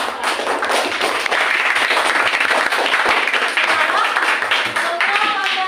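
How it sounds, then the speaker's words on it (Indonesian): Classroom applause for the last student group, dense continuous clapping from many pupils, loud and close, with some chatter mixed in. "Kami tepuk tangan sama kelompok terakhir."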